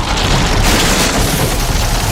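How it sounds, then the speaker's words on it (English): Dense, continuous crashing roar of pounding waves breaking a ship to pieces after it runs onto a sandbar, loud broadband booms and rumbles filling the whole stretch without pause. "the pounding waves break the back of the ship to pieces"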